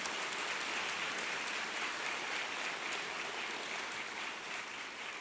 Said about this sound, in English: let's give a last hand of applause to these wonderful Post leaders